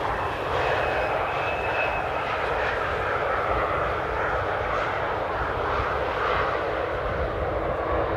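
A large airliner arriving at Amsterdam airport gives a loud, steady jet engine roar that holds close and continuous throughout, with no voices.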